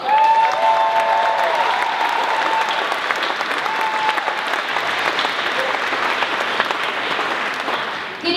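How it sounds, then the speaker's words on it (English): An audience at a primary school dance show claps and cheers for two students coming onto the stage, a loud, dense sustained round of applause with a few whoops that continues until near the end. "please welcome onto the stage with a big cheer"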